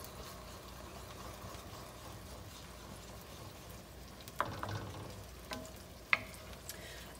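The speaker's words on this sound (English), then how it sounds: "I'm basically just going to start stirring those up so they don't turn into like fried eggs for me." Eggs stirred in a hot frying pan for chicken fried rice, a steady soft sizzle with a few sharp scraping strokes of the utensil against the pan near the end.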